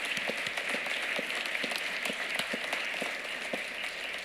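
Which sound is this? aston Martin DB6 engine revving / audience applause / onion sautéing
audience applause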